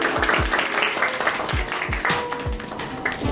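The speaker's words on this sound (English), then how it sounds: "We should give her a warmer and a louder round of applause." A small group applauds during a rainy, cyclone-hit day, a continuous patter of clapping over a background marked by repeated low thumps that sound like wind buffeting or handling.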